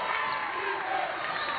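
A crowd at an Arkansas State vs. Little Rock college basketball game cheers in a brief, steady roar of massed voices, carried through a muffled broadcast sound.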